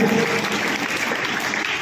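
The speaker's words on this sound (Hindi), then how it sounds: "एक बार जोरदार तालियां उन सभी 6 बच्चों के लिए भी" Loud, sustained clapping from a crowd honouring students at a school CBSE results ceremony, a dense, even wash of applause from start to finish.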